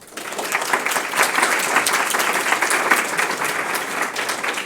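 Audience applause for an award presenter at an excellence awards ceremony, dense and continuous clapping from a crowd that holds at an even level for several seconds.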